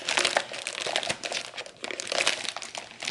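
A plastic bag holding beef in shoyu marinade crinkles and rustles steadily as it is handled, a close, continuous crumpling for a few seconds with no talking.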